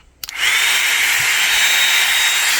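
A high-pitched suction fan of an RC wall-climbing car whirs up after a click and then holds a steady, loud, airy whine like a small vacuum cleaner.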